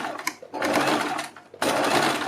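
A sewing machine stitches a cold sleeve seam beside buckram in short, loud, close bursts, with a brief slowdown before the motor surges again.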